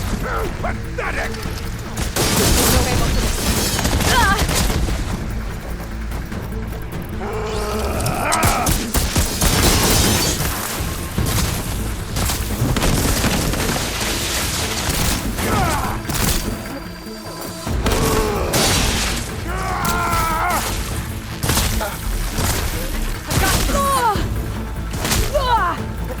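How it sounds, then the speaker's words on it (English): Heavy cannon blasts and explosions crash repeatedly through the action of Horizon Forbidden West: Burning Shores, loud booms, shattering debris and mechanical clanks layered over game music and combat voices. "I love this cannon!"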